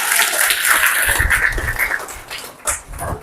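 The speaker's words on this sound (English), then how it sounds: "Give them a round of applause, guys" Audience applause at a communication skills workshop, a dense wash of many hands clapping fairly loud and close, sustained across the room with a brief swell near the end.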